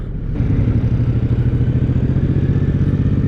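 A 2023 Suzuki Boulevard M109R B.O.S.S cruiser's big engine pulses loud and close during a test ride, with a deep, rhythmic thumping beat that kicks in after a brief quieter moment and holds steady, with no talk.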